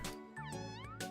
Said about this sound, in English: Meow! Hey, what are you doing? Come back. I wanted to feed you fish.